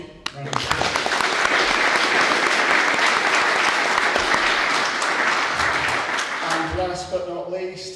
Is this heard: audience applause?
yes